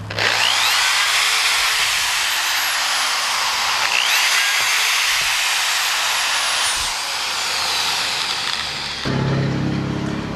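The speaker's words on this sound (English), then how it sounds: "5/64 drill bit. Go around, drill pilot holes," A power drill with a 5/64 bit bores pilot holes during a Saturn sunroof repair, running as a steady, loud, high whine with short pauses and a shift in pitch near the end.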